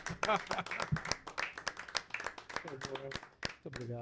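A studio audience claps in scattered bursts while people keep talking loudly and close over the top of it.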